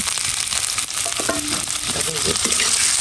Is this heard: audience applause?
no